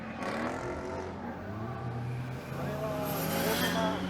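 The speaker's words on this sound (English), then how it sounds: "God, the sound of that exhaust." A race car's engine and exhaust drone and rise in pitch as it revs and accelerates, heard moderately loud throughout with a person talking over it.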